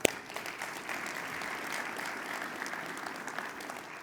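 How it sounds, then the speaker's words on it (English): Conference audience applauding steadily for about four seconds, a dense wash of many hands clapping in a large hall, starting with a sharp onset and holding an even level throughout without voices. "please give him a round of applause"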